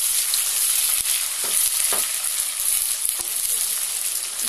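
Green cardamom pods and sliced onions fry in oil for a wedding korma, a steady bright hiss of sizzling with a few soft stirring knocks, close and continuous.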